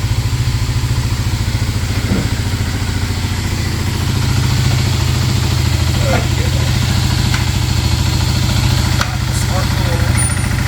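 A Kawasaki KLX300 SM motorcycle engine with an aftermarket exhaust idles loudly and steadily on a dyno with a low, even rumble, with faint clicks and mechanical noises in the background.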